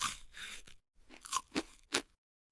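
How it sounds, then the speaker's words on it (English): Someone biting into and chewing an apple, a few crisp crunches separated by short pauses, close and fairly quiet. "I eat an apple."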